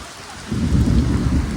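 The first monsoon rain of the season in a village arrives with thunder: after a quiet half-second, a loud, steady roar of rain and rumbling thunder rises and holds.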